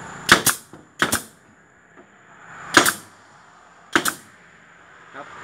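A pneumatic nail gun fires into eave soffit panels, cut at a 45-degree corner on a house. Four sharp, close shots land in pairs and singles at irregular intervals, with no talking.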